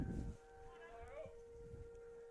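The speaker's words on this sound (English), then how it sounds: "they're testing the tornado warning siren." A tornado warning siren is tested in Kendallville during a high school baseball game, a distant sustained wailing tone holding steady beneath a broadcaster's commentary and faint crowd noise.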